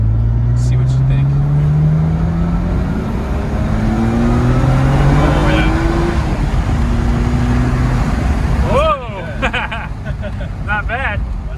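A Nissan R33 GTR running E85 accelerates hard through second and third gear, its engine loud and close with a steady rising roar, a clear gear change near the end, and a person talking over it.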